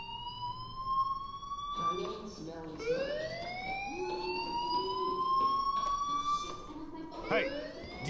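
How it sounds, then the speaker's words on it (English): A fire alarm in the video game Life is Strange wails in rising and falling siren sweeps at moderate loudness. A voice talks over it now and then. "do you hear that fire alarm?"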